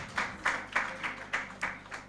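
Seven evenly spaced claps in a steady rhythm at a hospitality panel session, fairly quiet, sounding like a few people or a single pair of hands.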